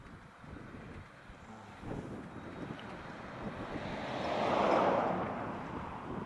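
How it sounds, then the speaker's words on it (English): Strong wind blowing outdoors at a site, a steady roaring rush buffeting the microphone and swelling louder toward the end, with no talk. "It's really windy here."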